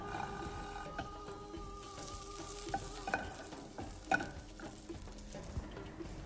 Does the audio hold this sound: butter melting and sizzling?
yes